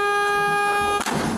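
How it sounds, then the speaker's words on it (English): A police van's horn blares in one long, loud, steady honk while the vehicle swerves on the way to a detention center, cut off by a sharp noise at the end. "He swerves the vehicle and honks,"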